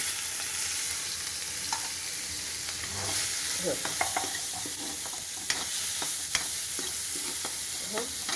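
Finely chopped onion and curry leaves frying in a pan, giving a continuous moderate sizzle with scattered spatters and a few scraping stirs, with no voices.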